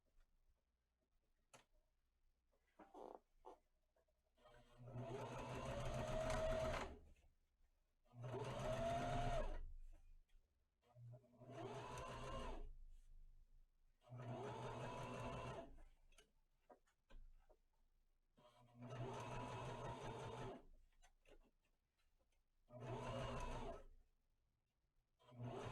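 A sewing machine top-stitches along the seam edge of a fabric fashion mask in five or six distinct close, loud bursts, each a steady whirring run of a few seconds separated by short pauses, with no talk.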